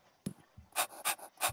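A dog in the video game Tomb Raider II Remastered pants close by in three rapid, breathy bursts following a sharper yelp-like sound.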